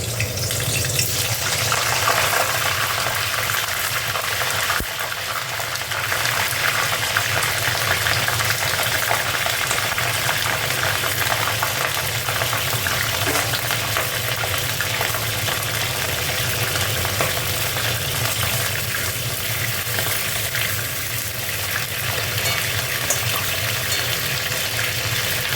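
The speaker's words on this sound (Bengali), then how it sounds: "দেখো ফুলকপিটা ভেজে নিচ্ছি।" Cauliflower florets fry in a kadai of hot oil for a Bengali aloo-fulkopi curry, giving a loud, steady, close crackling sizzle that holds unbroken from start to finish.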